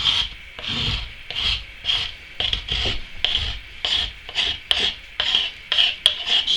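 Spilled candle wax is scraped off a hard surface with steady, rhythmic rasping strokes, about two per second, close and moderately loud, with no voices.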